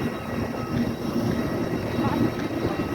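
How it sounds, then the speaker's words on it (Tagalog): An airplane idles on the ground at an airport after landing, its engine giving a steady, moderately loud rumble throughout while people talk nearby. "yan yung aeroplano namin"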